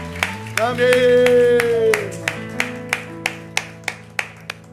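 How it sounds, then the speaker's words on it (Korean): Church congregation at a Sunday worship service claps in praise after a prayer, first blending with a sung amen and organ chord, then settling into a run of loud, evenly spaced single claps in a slow, steady rhythm. "우리 주님께 영광과 감사의 박수 올려드립시다"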